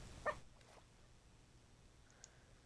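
Minecraft puppy whimpering, one short faint whine near the start followed by a tiny high yip later, over quiet background hiss.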